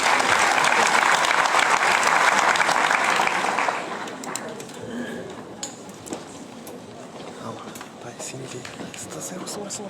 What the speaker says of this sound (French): Mesdames et messieurs, sous vos applaudissements, Madame Sana El-Hlou.